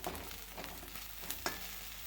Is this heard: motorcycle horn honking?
no